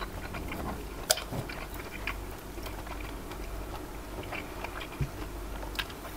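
Chewing of stir-fried squid with chili paste, soft repeated bites and crunches close to the mic, with a few sharper ticks over a steady low room hum and no talk.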